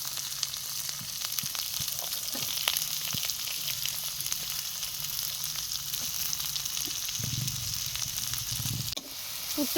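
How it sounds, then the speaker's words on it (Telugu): Chopped onion and chili tipped into a pan of tempering spices fry with a loud, continuous close sizzle, crackling pops and occasional stirring scrapes, ending in a sudden thud, no talk. "పోపు దినుసులు ఇలా కొంచెంసేపు ఏగనిచ్చిన తర్వాత ముందుగా కట్ చేసుకుని పెట్టుకున్న ఆనియన్, చిల్లీ ఇలా వేసుకొని"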